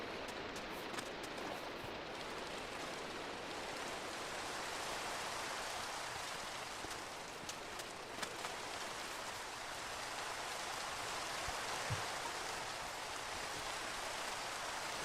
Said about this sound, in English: I can hear the rain coming down from up above.